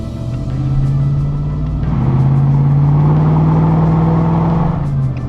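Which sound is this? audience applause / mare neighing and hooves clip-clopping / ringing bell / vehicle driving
vehicle driving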